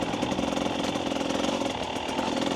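A 2024 KTM 300 EXC two-stroke dirt bike with throttle body injection buzzes steadily and close along a trail, a continuous raspy engine drone with slight throttle fluctuations and no talking.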